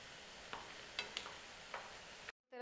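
Banana batter for a sweet fries in a pan over a medium flame, giving a steady soft sizzle with a few light stirring clicks, quiet and close before cutting off abruptly near the end.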